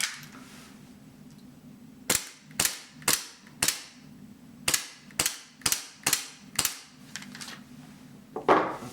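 Army Armament micro Roni gas-powered gel blaster firing about a dozen sharp, snappy shots in an uneven string. They are close and clear over a quiet background, followed by a faint rattle at the end.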